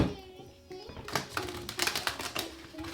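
A deck of tarot cards being shuffled, several quick riffling bursts of papery flutter close by, growing busier in the second half with faint background sound.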